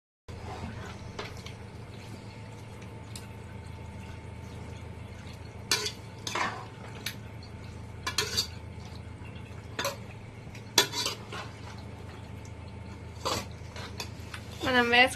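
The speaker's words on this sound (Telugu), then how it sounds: "మనం వేసుకున్న మసాలాలన్నీ కలుపుకునేసి మీడియం ఫ్లేమ్లో అయితే పెట్టుకోవాలండి" Intermittent metal clinks and scrapes of a spoon stirring chicken with ginger-garlic paste, salt, turmeric and black pepper in a pan, scattered knocks over a low steady background hum, no talk.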